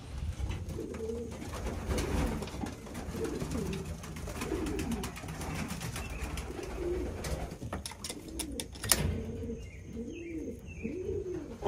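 Pigeons coo repeatedly at a loft, their soft rolling calls rising and falling in overlapping bursts, with occasional chirps and light wing or movement noise nearby.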